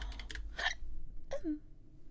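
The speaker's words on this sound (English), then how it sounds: "Hiccups." A few close hiccups pop out in quick succession, short sharp vocal catches with a brief pause between them, quiet and with no talking.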